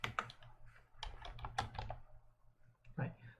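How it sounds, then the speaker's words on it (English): Rapid typing on a computer keyboard, a quick irregular run of close, faint key clicks with a brief pause before a final burst. "I can just type brick."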